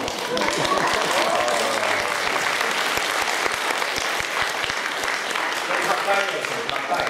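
A Presbyterian church congregation claps at an anniversary worship service, a dense and steady round of applause that stays loud for the whole stretch, with voices talking underneath.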